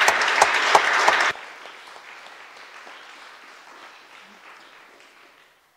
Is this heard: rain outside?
no